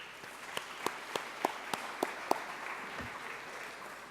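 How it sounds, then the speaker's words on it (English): Audience applause at a morning honours event: a soft, distant wash of crowd clapping, with a run of sharper, evenly spaced claps from one pair of hands standing out nearby for a few seconds. "Please also give him a round of applause."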